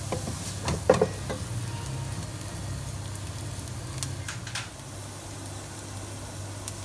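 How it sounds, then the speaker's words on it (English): Garlic and chili frying gently in a pan for chilli con carne, a soft steady sizzle with a few scraping stirs and clinks near the start, no talking. "you're just going to cook that for another 2 minutes just to soften that garlic and the chili"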